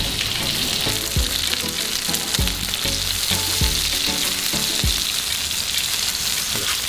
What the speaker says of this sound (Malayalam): ഇപ്പോൾ നമ്മൾ അതിൽ തവയ്ക്കകത്ത് തന്നെയാണ് ഇവിടെ ഫ്രൈ ചെയ്ത് നമ്മൾക്ക്.